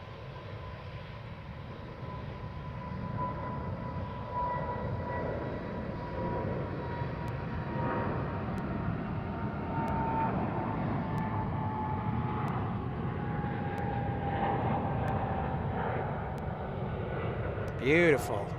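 A Boeing 777 jet airliner departs DFW airport, bound for Anchorage, a steady distant engine roar that holds for the whole stretch with a slowly falling whine on top, while someone talks over it.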